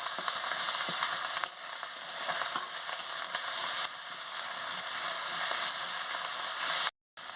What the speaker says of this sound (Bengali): এবার আদা বাটা রসুন বাটা দিয়ে দিচ্ছি, দিয়ে ভালো করে মশলাটাকে ভেজে নিচ্ছি